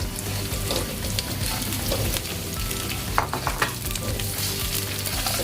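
Potatoes fry in hot oil with a loud, continuous sizzle, close to the pan, broken near the middle by a few sharp clatters and spits.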